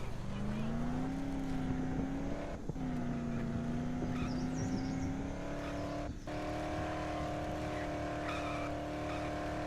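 Engine of a car driven in a video game, a steady droning hum that rises in pitch in steps as it accelerates, continuous and fairly close, with brief dips between.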